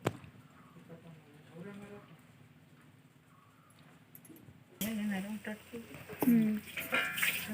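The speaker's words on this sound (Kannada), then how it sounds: "ಈಗ ಹಂಚಿನ ಮೇಲೆ ಹಾಕಿ ಫ್ರೈ ಮಾಡ್ತಾ ಇದ್ದೇವೆ" Masala-coated fish fries on a hot pan with oil, a soft sizzle that grows louder and crackles partway through, close by, under someone talking throughout.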